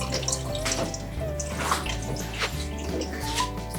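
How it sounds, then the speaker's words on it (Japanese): Tap water runs steadily into a sink while a horse mackerel is scaled under the stream, a continuous splashing wash with faint scraping and knocking mixed in, close and with no one speaking. "水を流しながら落として飛び散らないようにやっていきます"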